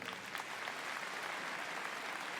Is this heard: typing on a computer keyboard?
no